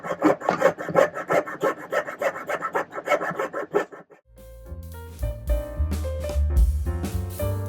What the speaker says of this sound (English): let's go saw the little pattern out of here